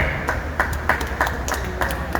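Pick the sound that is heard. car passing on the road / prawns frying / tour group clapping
tour group clapping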